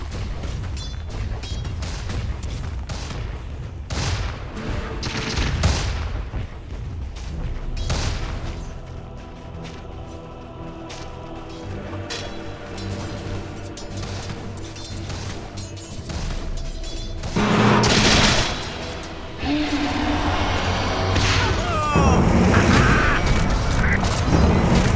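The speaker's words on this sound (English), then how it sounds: "Dire's middle tower is under attack." Dota 2 combat around the Dire's middle tower: a dense, continuous clash of impacts, booms and attack hits with scattered sharp bursts, growing louder near the end.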